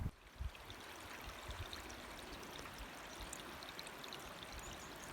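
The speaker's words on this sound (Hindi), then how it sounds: "और आज पानी भी कुछ बहुत झलक रहा है। और ये देखें, नदी का पानी है सारा" A mountain river rushes alongside a steep, wet hiking trail on Cader Idris, a steady broadband roar of flowing water with a few thumps at the start, heard close and continuous.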